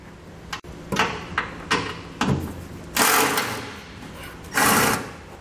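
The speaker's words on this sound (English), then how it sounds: "there's a nut we're going to remove with a 12 millimeter socket" A 12 mm socket on a ratchet works a nut loose on the frame of a 2020 Toyota Tundra during a B&W fifth wheel hitch installation, giving close, sharp whirring and clicking bursts separated by brief pauses.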